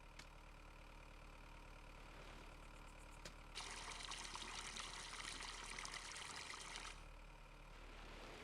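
Water being added to an allotment garden in Farming Simulator 22 comes in as a steady hiss and trickle lasting about three seconds, over a constant low engine idle.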